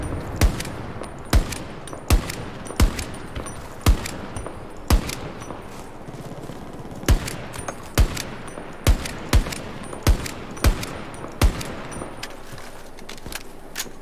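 Single gunshots in the video game Battlefield 2042, sharp loud cracks fired one at a time at irregular intervals roughly a second apart, with a low background bed between shots.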